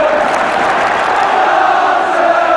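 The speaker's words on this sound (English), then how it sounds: "Crowd getting behind Tottenham now" A large football stadium crowd roars in support of Tottenham during a 1970s match against Stoke, a dense, sustained wall of cheering and chanting at steady volume with no break.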